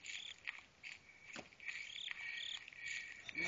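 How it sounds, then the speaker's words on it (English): Steady, high crickets chirp continuously with a few brief bursts, faint and distant in a quiet night ambience in the video game Slender. "Oh, crickets again."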